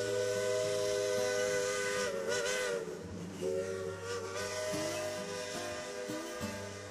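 Geared steam locomotive whistle sounding at a steam-up event, loud tonal blasts layered over hissing steam, pausing briefly and then resuming in overlapping chords.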